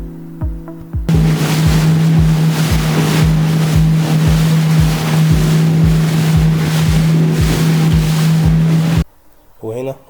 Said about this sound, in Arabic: خدنا الزودياك وطالعين على محمية أبو جالوم